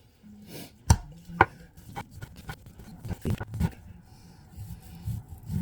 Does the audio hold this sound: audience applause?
no